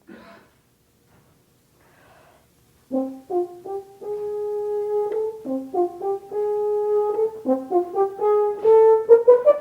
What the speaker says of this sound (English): let me play a musical example of what the horn might sound like in an orchestra situation